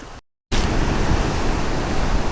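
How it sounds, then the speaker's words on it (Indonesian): Big ocean waves crashing at Watulumbung beach, a loud continuous roar of surf after a brief gap of silence, steady and close with no voices. "Ombaknya lagi gede di sini, guys."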